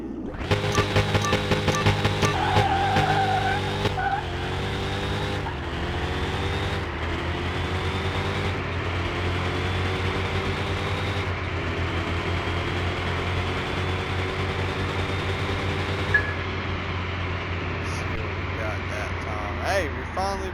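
Race car engine at high speed in the Car Mechanic Simulator 2021 video game, with a Lamborghini motor, a steady loud sustained whine with shifting harmonic tones over about twenty seconds, someone talking over it.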